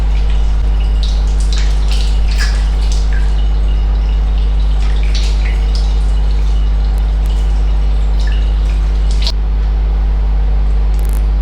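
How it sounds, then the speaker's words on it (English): Tap water splashes and drips while a face is washed at a sink, scattered wet splashes over a steady low electrical hum. "I'm going to wash up my face with water"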